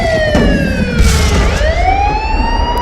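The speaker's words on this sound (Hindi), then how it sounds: "राजधानी कीव में बजा युद्ध का सायरन" An air-raid warning siren wails over Kyiv during wartime, its loud, steady tone sliding down and then rising again, sustained over a low background rumble.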